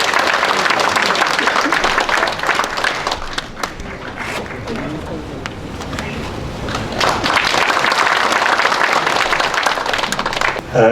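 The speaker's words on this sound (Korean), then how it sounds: "박수로 맞으시면 고맙겠습니다" Applause from the crowd at a memorial ceremony for Korea's founding president Syngman Rhee greets a former minister, dense clapping that dips midway and then swells again, with some voices mixed in.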